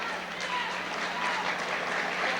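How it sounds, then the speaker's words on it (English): Crowd in a high-school basketball gym applauding an injured player, a dense, steady wash of clapping filling the whole moment with no pauses. "Bill gets a hand from the crowd."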